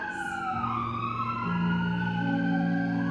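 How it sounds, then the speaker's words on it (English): Wailing sirens rise and fall continuously, layered over a steady low drone, fairly loud and close with no talking. "Tuning out the sirens."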